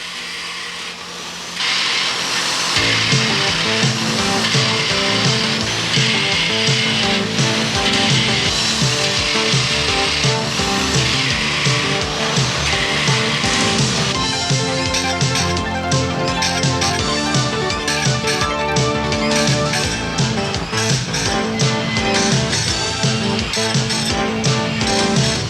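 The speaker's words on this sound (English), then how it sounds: "This is the building where they sharpen the blades." Sawmill blade-sharpening machinery grinds and whines loudly and continuously, a dense metallic drone with rhythmic scraping passes that shifts character partway through.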